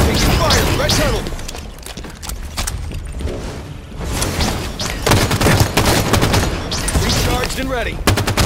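Dense, continuous automatic weapon fire in a Halo 5 ranked Slayer match, loud and sustained with rapid bursts and impacts layered throughout, while a game voice calls out briefly.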